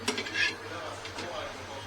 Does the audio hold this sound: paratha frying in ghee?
yes